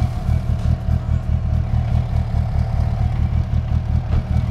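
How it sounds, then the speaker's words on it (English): A 650hp Mitsubishi Evo 8 engine idles steadily close by, a dense low rumble with a faint clattering texture holding even and unbroken throughout. "go ahead and turn on your car"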